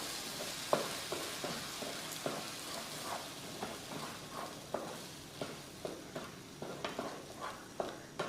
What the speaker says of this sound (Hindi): मीडियम फ्लेम पे इसको हम 10 से 15 सेकंड अच्छे से भून लेंगे।